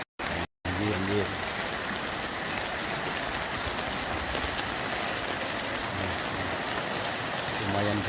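Heavy rain pours steadily during a flood in Lahat, a dense continuous wash of falling water and rushing runoff, loud and close, with a brief dropout at the very start.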